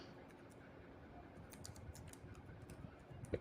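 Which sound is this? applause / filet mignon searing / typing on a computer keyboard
typing on a computer keyboard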